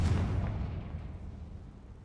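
A fire spell explosion from the video game Hogwarts Legacy, a loud deep boom at the start that rumbles and slowly fades over two seconds, with no talking.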